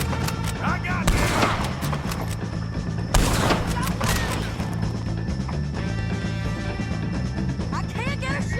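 A Red Dead Redemption 2 shootout with the O'Driscoll gang: loud, dense gunfire in rapid bursts with sharp cracks and heavy reports, plus shouted voices mixed in.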